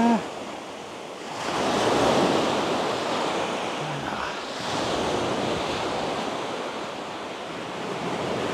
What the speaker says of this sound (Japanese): 波があるからね